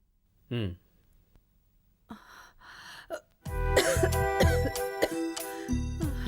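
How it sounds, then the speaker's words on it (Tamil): A single short cough near the start, followed by a sigh-like breath and then louder overlapping voices and clattering sounds. "ஏன் இருமுற?"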